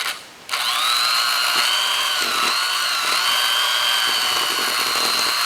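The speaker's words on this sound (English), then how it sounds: "I'm going to take my beaters, I'm going to put them back in there, scrape off my spatula there, and give it a nice whipping" Electric hand mixer beaters whip pumpkin bar batter in a bowl with a loud, close, continuous motor whine that starts abruptly after a brief quiet moment and runs steadily.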